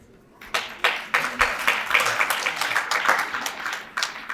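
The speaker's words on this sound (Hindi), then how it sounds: "आप कम से कम तालियों से जरूर इन सबका स्वागत करें।" An audience at an annual family gathering in Meerut applauds to welcome guests: scattered claps quickly swell into dense, sustained clapping that carries on to the end.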